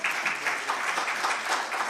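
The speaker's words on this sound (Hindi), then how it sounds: "जोरदार ताली बजाओ।" Workshop audience gives steady applause, a dense wash of many hands clapping at moderate volume, continuous for the whole moment without speech over it.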